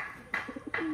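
A high-flying Khulna pigeon gives a short, soft coo, two quick throaty pulses followed by a low rolling note, close by in a quiet setting.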